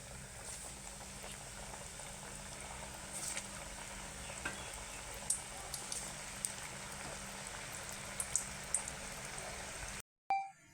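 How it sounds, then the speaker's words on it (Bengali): Khaja sweets fry in hot oil with a steady bubbling sizzle and occasional sharp pops, which cuts off abruptly near the end. "আমার খাজাগুলো লাল লাল হয়ে ভাজা হয়ে গেছে"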